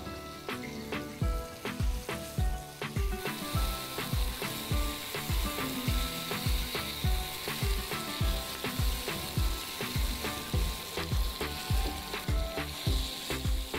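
Tandoori soya chaap coated in a yogurt masala marinade shallow-fries in a pan with a constant close sizzle, punctuated by regular scraping and clacking strokes as the pieces are stirred and turned.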